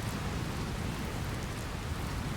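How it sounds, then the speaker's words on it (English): Rainfall in the Dragon Quest Builders 2 video game, a continuous dense hiss of steady rain with a low rumbling undertone, heard alone without voices. "Is that why it's raining?"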